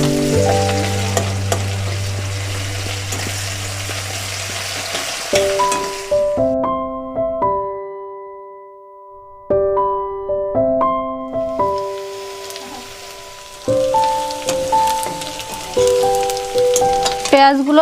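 Spices and then chopped onions hit hot oil in a pan for chana masala, giving loud, steady frying sizzle that breaks off briefly into near silence and then returns.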